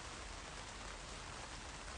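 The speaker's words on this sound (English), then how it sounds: "I love the sound of the rain." Light rain patters steadily on a large parasol in a garden, a soft, even wash of drops with no voices.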